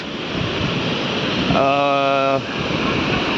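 Steady rushing water of the Verawali waterfall roars throughout, a broad continuous wash of noise, with a brief tonal voice or whistle rising above it midway.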